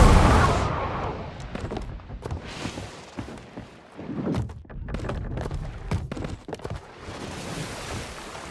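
Ship cannons fire at a rival sloop during an open-sea naval battle in a pirate video game, several heavy booms thumping out one after another over a bed of wind and rolling water.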